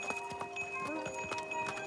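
Horse hooves clip-clopping in a steady rhythm on a road in China, close and clear, with a faint background hum.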